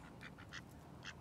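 Ducks at Schliersee lake giving several short nasal quacks in an uneven rhythm, close but soft, over a low murmur of background noise.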